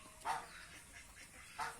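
A laying duck quacks twice, a short call near the start and another near the end, with softer calls between, fairly faint against quiet outdoor background.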